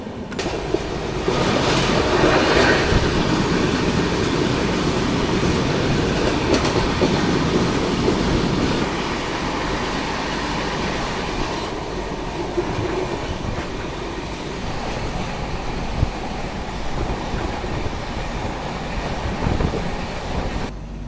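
A Sarnath Express passenger train runs on the rails, giving a loud, continuous rumble of the carriage with rhythmic clickety-clack from the wheels, heard close up from on board.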